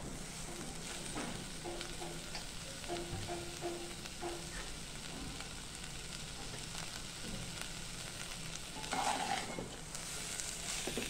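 Thick puran, a cooked lentil and jaggery filling, being stirred in a pan, with a steady soft sizzle and faint scraping strokes running throughout and no talking.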